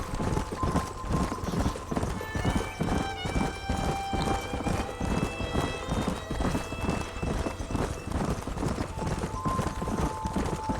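Horse hooves galloping steadily during riding in the Red Dead Redemption video game, a fast continuous clip-clop rhythm heard up close under sustained background music.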